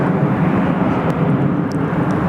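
Etihad airliner rolling down the runway on a long takeoff at Sydney Airport, a steady, loud jet engine roar that holds constant throughout with no talking.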